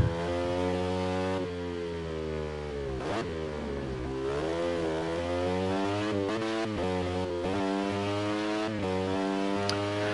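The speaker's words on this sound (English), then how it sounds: "This is also like my first motorcycle racing game since Tourist Trophy for PS2" A motorcycle engine in a racing video game revs loudly and continuously, pitch rising and falling with gear shifts and throttle changes, no talking.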